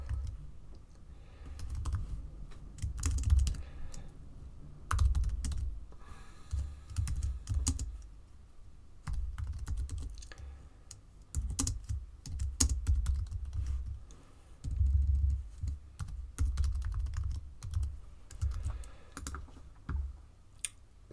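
Someone types on a computer keyboard during a web programming session, with irregular bursts of close, crisp key clicks and short pauses between words, heard alone without talk.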